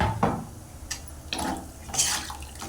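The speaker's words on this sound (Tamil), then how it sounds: "இப்போ இந்த தண்ணி நம்மளுக்கு பத்தலைன்னா இன்னும் கொஞ்சம் தண்ணி ஆட் பண்ணிக்கலாம்" Water splashes in short bursts into a pot of mango sambar being cooked in a home kitchen, close and fairly loud, with a few separate pours over a few seconds.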